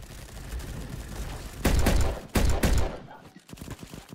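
Gunfire in the Roblox game Bad Business comes as loud bursts of rapid shots, a dense volley followed by two more short bursts, then scattered lighter pops, with game noise beneath.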